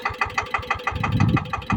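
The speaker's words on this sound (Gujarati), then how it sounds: "ટ્રેક્ટર ચાલુ થઈ ગઈ છે, જાય છે ખાલી." A driverless tractor on a farm, rigged with a homemade setup, runs its engine steadily with a quick, regular pulsing beat throughout.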